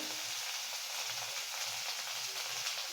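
Ginger paste and spices fry in hot ghee and oil, giving a steady, close sizzle with a dense crackling hiss and faint stirring underneath.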